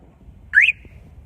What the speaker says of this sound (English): still got an alarm